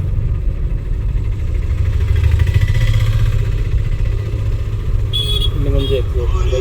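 A car engine hums steadily from inside the cabin during a driving-school lesson, its low drone holding firm for several seconds, with faint higher tones near the end.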